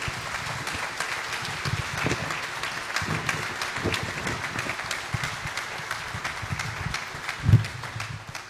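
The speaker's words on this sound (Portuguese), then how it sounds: "uma salva de palmas e muitos parabéns pelo aniversário" Audience applause for a philharmonic band at a band festival in Agualva, a moderate, continuous wash of clapping at middle distance, fairly even throughout with one brief louder thump near the end.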